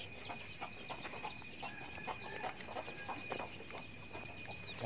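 Several free-range country chickens on a poultry farm cluck and chirp softly in short repeated calls at a moderate distance, over a low outdoor background hum.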